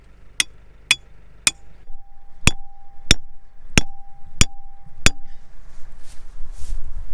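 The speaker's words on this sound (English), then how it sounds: "Get your hammer." Hammer blows driving a solar electric fence peg into the ground outdoors, seven or eight sharp, evenly spaced metallic strikes ringing close by, with a faint steady tone under the middle hits.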